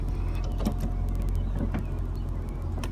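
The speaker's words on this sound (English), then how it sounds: "Up comes the trunk. Down go the windows, and down goes the top." Electric motors whir steadily as a 2004 Mercedes-Benz SL55 AMG roadster raises its trunk, lowers its power windows and folds its convertible top, a continuous mechanical hum with small clicks and thumps, close and even throughout.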